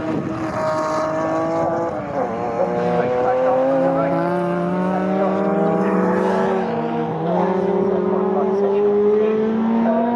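Saloon race cars racing at the Snetterton circuit pass with loud, layered engine notes that rise and fall through gear changes, several cars overlapping at close range.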